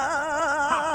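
A turntable scratches a long screaming vocal sample, giving one loud, wavering, sustained cry that bends up and down in pitch for about a second.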